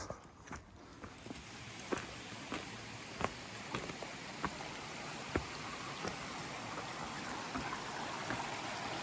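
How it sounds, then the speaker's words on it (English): A river running beside an Appalachian Trail path, a steady broadband rush of flowing water with a hiker's footsteps crunching at regular intervals over it, no talk. "The last little bit of today hugs this river."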